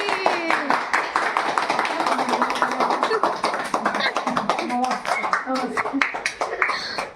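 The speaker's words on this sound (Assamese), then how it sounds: "এতিয়া তালি বজা তালি" Clapping at a cultural evening event as a guest is honoured with a gamosa, dense rapid claps running throughout under steady speech and music nearby.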